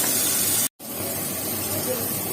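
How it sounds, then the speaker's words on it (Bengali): Eggplant frying in a pan in a home kitchen gives a close, steady hiss that breaks off briefly for a moment of silence, then resumes for the remainder. "বেগুনটা ভাজা বসিয়েছি"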